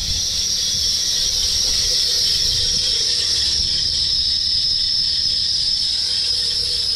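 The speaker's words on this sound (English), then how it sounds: "Got some belt noise there" A car engine's drive belt squeals after an alternator replacement, a loud, continuous high-pitched whine holding steady over the low rumble of the idling engine, with no talking.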